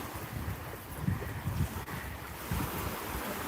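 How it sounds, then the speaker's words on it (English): Sea waves wash steadily along Maryport promenade, a low continuous surf rumble mixed with wind buffeting the microphone, with gentle swells rising and falling and no voices. "Listen to the sounds of those waves,"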